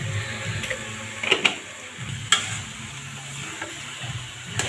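Taro leaves being stirred and fried in a pan, a soft steady sizzle under a few light scraping and tapping knocks from a utensil, close but not loud.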